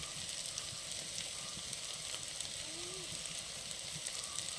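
Tomatoes and onions sauté in a pan for a Kerala curry, a faint, steady sizzle with occasional light clicks from stirring.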